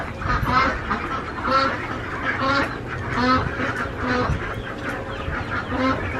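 Ducks quacking and honking at night in a flood-irrigated field in the Arizona desert, a loud, repeated chorus of calls in close, overlapping bursts that carry on throughout.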